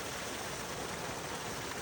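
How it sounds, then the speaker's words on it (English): Water gushes steadily from pipes at a hot spring, a dense broadband rush that stays constant and close throughout with no voices. "we made our kids stand under some pipes shooting out water"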